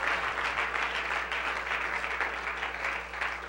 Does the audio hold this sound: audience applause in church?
yes